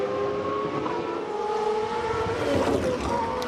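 GP2 race car on a qualifying lap at the Austria circuit, a high-pitched engine whine climbing as it accelerates, moderately distant and steady over a few seconds.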